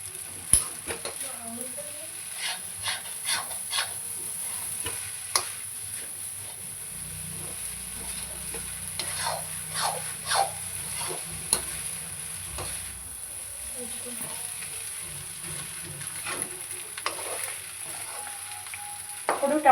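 Egg noodles frying in a pan while being stirred, with a steady soft sizzle underneath and repeated clinks and scrapes of a utensil against the pan, close and moderately loud with no speech.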